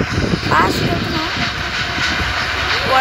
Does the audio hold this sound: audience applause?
no